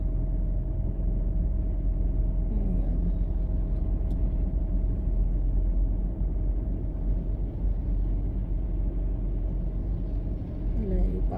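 A car drives along a road with a constant low engine and tyre rumble all the way through, while a person talks over it.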